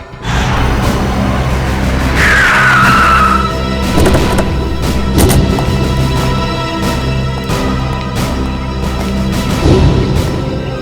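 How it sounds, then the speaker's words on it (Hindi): A car loses its balance and skids out of control, tires squealing and engine roaring loudly through a dramatic crime-show scene, with sharp impact hits and a rising screech near the middle. "उनकी गाड़ी का बैलेंस बिगड़ा, स्टीयरिंग पर से कंट्रोल छूटा और गाड़ी इस दीवार से आके टकरा"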